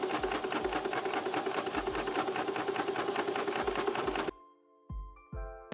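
A sewing machine stitches a gathering line along a hem seam on fabric, a fast steady mechanical whir of stitches close up for about four seconds, then stops, followed by a couple of brief clicks.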